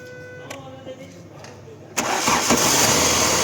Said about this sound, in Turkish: Çalıştır arabayı.